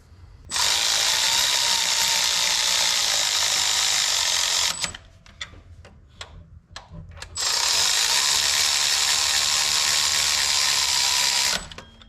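Ratchet wrench tightening the idler pulley bolt on a Chevrolet Tahoe serpentine belt setup: two long, loud bursts of rapid clicking separated by a few slower single clicks, close up with no talk.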